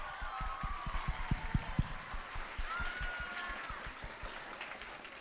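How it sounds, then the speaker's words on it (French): A crowd of around 150 students applauding and cheering at a live school charity event, dense hand claps with whoops and shouts rising and then thinning out, heard from a middle distance in a large room. "je suis devant quand même une foule de 150 jeunes, 150 élèves. Faites du bruit"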